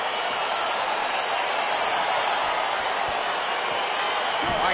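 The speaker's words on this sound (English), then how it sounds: "crowd getting excited as this fight gets underway" Crowd at a UFC 4 video game fight producing a dense, steady roar of cheering that stays loud and even throughout, with no distinct voices standing out.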